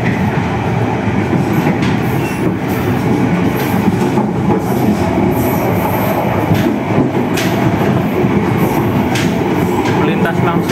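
Indonesian passenger train passing straight through Cikampek station at speed, a steady loud rumble of wheels and rail noise with faint clatter, heard from on board throughout.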